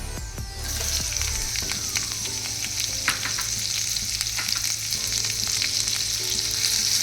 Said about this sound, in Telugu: ఇప్పుడు జీరా కొంచెం ఫ్రై అయింది నేను ఆనియన్ వేసుకుంటాను